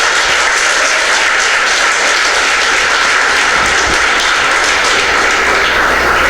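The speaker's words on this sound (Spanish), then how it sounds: "Si le vas a aplaudir, apláudele como él se lo merece." A church congregation applauds in a steady, dense wash of clapping that fills the room and holds without break from start to finish.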